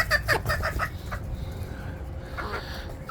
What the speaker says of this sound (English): We got a chicken fight.